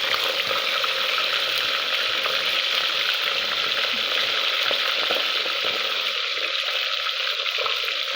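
Fish fries in hot oil in a pan with a dense, steady sizzle and crackle that stays loud and even throughout, with no talking.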